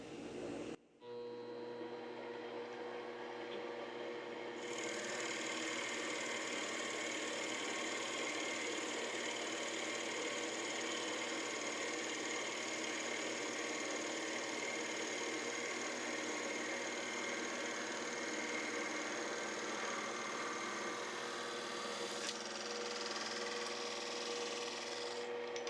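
A steady mechanical whir of a lathe with a grinding, rasping bite as a 21 mm Forstner bit drills into wood, running continuously, fairly close, with a brief pause near the start and no talking.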